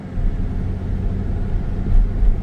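Gen 1 Toyota Tacoma rolling under its own power on front-wheel drive with the rear driveshaft and carrier bearing removed, a steady low engine and drivetrain rumble with slight swells, no voices.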